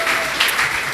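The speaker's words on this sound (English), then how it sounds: "Yay, round of applause for you guys" Brief burst of audience clapping after a coffee-shop performance, close and fairly loud, a dense even patter lasting about a second with a faint voice-like tone mixed in.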